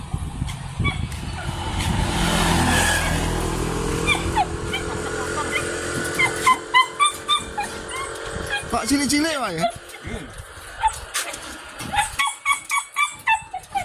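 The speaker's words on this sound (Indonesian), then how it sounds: "ini guguk-guguk ini nggih golek lauk pauk" Small dogs barking and yelping in short bursts close by at a roadside village stall in Java, mixed with people talking and passing traffic.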